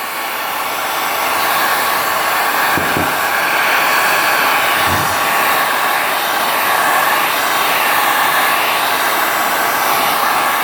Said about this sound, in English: So we'll heat this up a little bit with a heat gun.